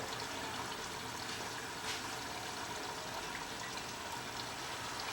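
Hot water is poured over minced mutton keema in a kitchen, making a continuous, even splashing hiss of running liquid at moderate volume with no speech.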